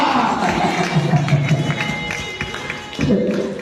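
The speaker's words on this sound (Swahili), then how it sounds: "Piga Bwana makofi, haleluya." A church congregation claps together for the Lord during a prayer service, a loud crowd of quick claps and cheering that fades slightly toward the end.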